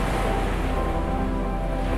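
Crashing waves along the Cornwall coast, a steady loud broadband roar of surf with wind, continuous throughout with no voices.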